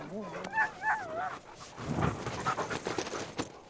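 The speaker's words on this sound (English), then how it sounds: "The traditional sled dog can sense and avoid it." Sled dogs pant in quick, rhythmic bursts up close, with a few whimpering, whining tones at the start, then a busier stretch of breathing and rustling movement.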